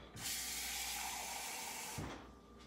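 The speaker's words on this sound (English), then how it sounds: "We'll see what happens with the half a cup of water." Half a cup of water poured into keto banana bread batter, a steady hissing stream lasting about two seconds with a brief splash near the end, close and fairly quiet.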